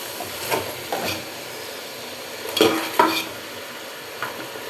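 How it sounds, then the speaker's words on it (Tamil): Vegetables, with tomato among them, sauté in a pan for a Tamil home-cooked dish, a low steady sizzle broken by a few scraping stirs of a spoon against the pan, close by and with no voices. "இது நல்லா வதங்கட்டும் கொஞ்சம் நேரம்."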